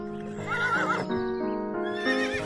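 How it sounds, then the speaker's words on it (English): A horse whinnies in a loud, wavering neigh that rises and falls twice, with a rhythmic clip-clop of hooves underneath, all heard up close without any talking. "This is a horse."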